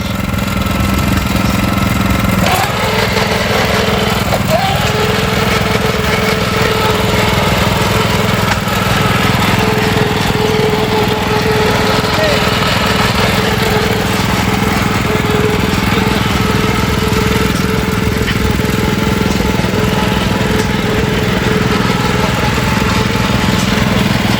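An antique engine runs at a hit-and-miss antique engine and tractor show, with a steady, loud, rough mechanical chugging that carries on unbroken for the whole stretch, with no voices.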